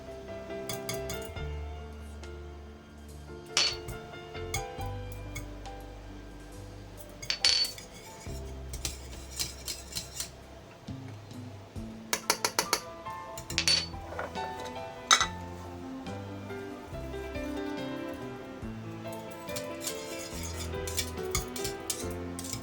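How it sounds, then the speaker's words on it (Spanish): A utensil scrapes and clinks against a pan while béchamel is stirred in a home kitchen, irregular metallic taps and chinks over a soft background, close and fairly quiet, with no talking. "mientras que ando removiendo mi bechamel"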